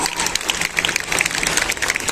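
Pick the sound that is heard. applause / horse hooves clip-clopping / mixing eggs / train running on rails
applause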